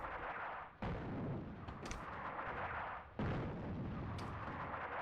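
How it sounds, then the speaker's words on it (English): Artillery fire in the war game Attack at Dawn: North Africa, with two heavy booms that drop into a brief lull and return as a loud, sustained rumbling barrage. "That's artillery there attacking, that's pretty good."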